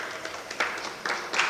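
Live audience at a comedy performance night giving light, low-intensity clapping, a soft patter of scattered claps in a few small bursts.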